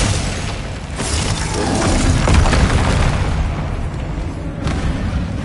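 Spells such as Incendio and Confringo crackle and burst in Hogwarts Legacy, a dense run of booming, whooshing magical effects with fiery crackle and mechanical rattling, loud and continuous with no speech.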